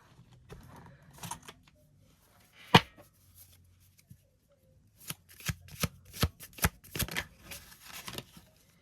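Tarot cards are shuffled close by: a sharp riffle, then a run of quick, crisp bursts of card handling after a quiet pause.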